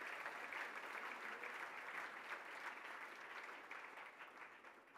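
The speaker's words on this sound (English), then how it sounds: "that deserves a round of applause" Sustained applause from a crowd, a dense, steady wash of clapping that continues throughout, at an IndyCar legends Q&A event at the Petersen Museum in Los Angeles.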